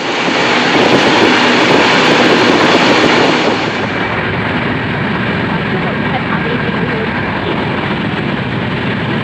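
Kolkata–Radhikapur Express pulling out of Salar station, a loud, steady rumble of the moving train with a higher whine early on that drops away as it gets going, heard from on board.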